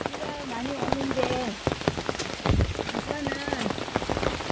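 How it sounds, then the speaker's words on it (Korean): Heavy rain pours steadily on a mountain trail on Gasan in Chilgok, at the edge of Palgongsan, as a dense, close hiss of drops that continues under a person talking. "비 많이 옵니다"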